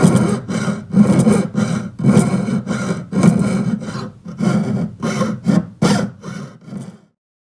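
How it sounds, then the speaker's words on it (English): A jeweler's saw cuts through a metal wide band ring held on a bench pin, giving steady back-and-forth rasping strokes close up, about a dozen in a regular rhythm, then stopping. "I'm going to put it right on that scribe line, and then I'm going to saw."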